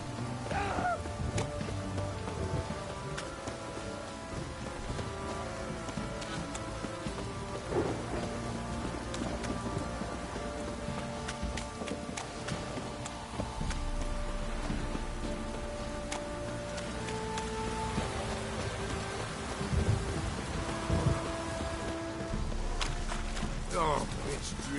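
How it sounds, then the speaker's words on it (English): Steady rain hiss with occasional low thunder rumbles in The Witcher 3: Wild Hunt, continuous throughout and mixed with other in-game sounds and tones. "it's drizzling"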